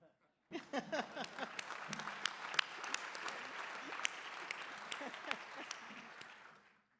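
Audience applause at a celebratory groundbreaking for a cancer center, a dense wash of clapping that starts abruptly, holds steady for several seconds and fades out at the end.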